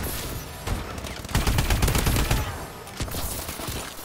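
Rapid bursts of automatic gunfire from the AE4 DLC weapon in Call of Duty: Advanced Warfare team deathmatch, loud close fusillade with a brief lull, no talk.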